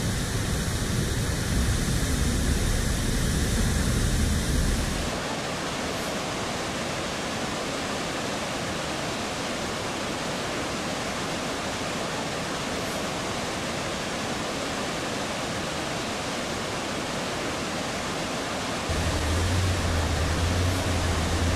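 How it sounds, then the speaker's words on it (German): The Iguazu waterfalls on the Argentine side give a constant, dense roar of falling water that fills the whole stretch without a break, heavier and deeper at the start and again near the end. "Nun haben wir die ersten Wasserfälle erreicht"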